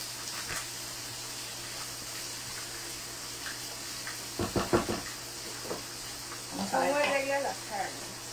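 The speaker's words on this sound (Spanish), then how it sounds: "Vean cómo se van dorando las papitas." Potatoes browning in a pan give off a steady, low sizzle throughout, with a few clattering knocks partway through and a voice speaking over it near the end.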